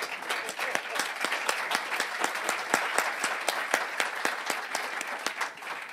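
A workshop audience applauding, many hands clapping in a brisk, steady rhythm with distinct claps standing out, sustained throughout and fairly close.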